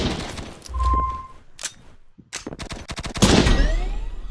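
Rapid bursts of gunfire from the blocky shooter game Poxel.io, sharp clustered shots with short gaps, loud and close, mixed with other game effects and a brief tone.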